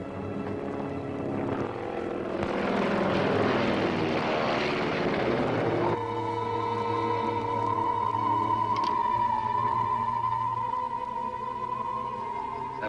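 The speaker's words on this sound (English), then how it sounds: "That plane's headed this way." A propeller airplane from a 1946 film serial drones loudly overhead, its engine swelling as it passes, then settling into a steady, closer hum with a sustained tonal whine.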